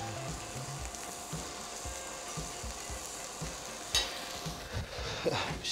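Lamb chops sizzle steadily in a hot pan while being turned, soft scraping and stirring strokes repeating under the hiss, with a couple of sharper knocks near the end.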